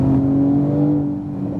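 A 2018 Porsche 911 Turbo S accelerating out of a corner, its engine giving a loud, steady tonal drone with strong harmonics that eases slightly toward the end, heard close without speech.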